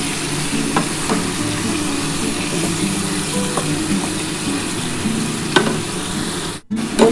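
Chicken kosha spices being stir-fried in a pan, with ginger-garlic water going in: a steady close sizzle with repeated scraping stirs, no talking, and a short drop to silence near the end before the sizzle returns.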